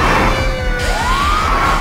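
A loud wailing ambulance siren rises and falls over engine hum in the video game Metal Gear Solid V: The Phantom Pain, close by, with no talking.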